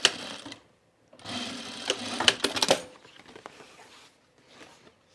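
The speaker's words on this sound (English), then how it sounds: "I'm going to sew it together at the seam allowance at the ends, each end, 1/4 inch" A sewing machine stitches the ends of a bag's hem facing together at a quarter-inch seam allowance, running in several short close bursts separated by brief pauses.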